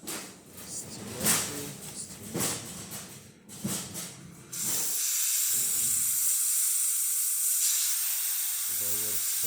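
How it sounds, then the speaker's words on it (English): The steam wand on a La Pavoni Europiccola espresso machine gives a steady, loud hiss that starts partway through and runs to the end, after a stretch of clattering handling noises. "So this is the steamer."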